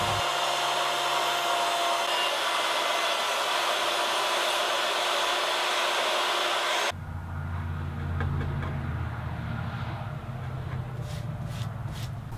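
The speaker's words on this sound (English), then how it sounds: "then I'll route out a groove that's nice and flat" Electric router cutting a flat groove into an oak slab, a steady loud broadband whine for about seven seconds that then drops to a lower, rougher motor hum as the cut eases.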